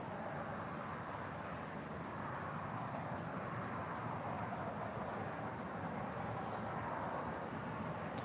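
Steady distant jet roar from a Korean Air cargo Boeing 777 taxiing toward the runways at LAX, a constant broadband rumble with no speech.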